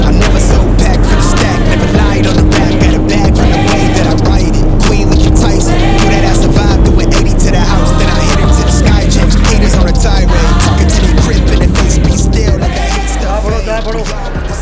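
Heavy-duty trucks overtaking one another on a busy highway, heard from a moving vehicle as a loud, continuous engine roar and road rumble with rising and falling passing swells throughout.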